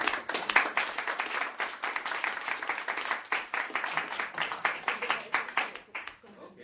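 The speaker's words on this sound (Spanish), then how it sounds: "Un aplauso, por favor." An audience claps together at the close of a meeting in Paraguay, dense steady applause running for several seconds before thinning and tapering off at the end.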